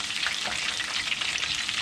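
Shrimp tempura frying in hot oil, a dense, steady crackling sizzle that stays close and even throughout, with no voices.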